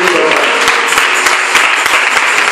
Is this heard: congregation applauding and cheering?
yes